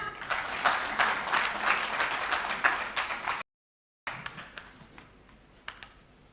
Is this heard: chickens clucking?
no